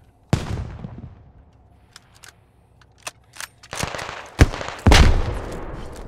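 Enemy gunfire in the Squad military shooter: a sharp shot opens, then scattered cracks and rapid bursts build into loud close reports near the end.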